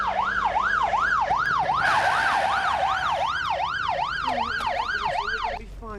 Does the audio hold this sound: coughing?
no